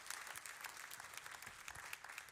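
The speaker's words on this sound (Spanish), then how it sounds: "Dele ese fuerte aplauso al Señor." A church congregation applauds, a faint, steady patter of many hands clapping over a couple of seconds, distant and soft.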